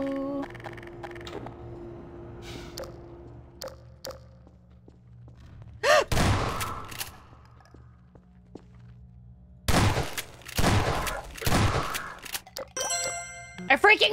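Shotgun blasts in Half-Life 2: several loud, sharp reports arrive irregularly, one alone and then a quick cluster of three, with quieter game noises and some talking between them.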